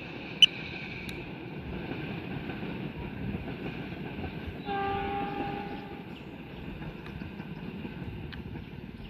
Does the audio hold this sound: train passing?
yes